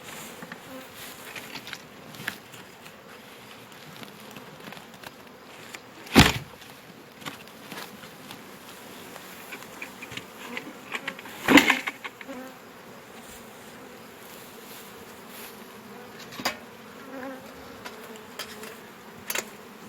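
Steady low buzzing from many honeybees at a hive runs throughout, with a few sharp knocks or taps standing out above the hum.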